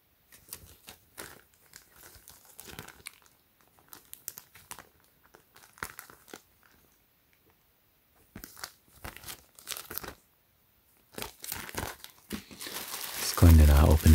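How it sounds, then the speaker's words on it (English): Plastic packaging on a Supreme pillow crinkles and tears open in scattered bursts, with a louder rustling flurry at the end, interleaved with someone talking. "Going to open this up."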